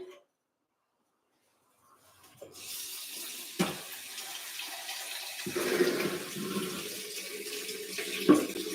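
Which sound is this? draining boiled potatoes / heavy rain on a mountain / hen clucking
draining boiled potatoes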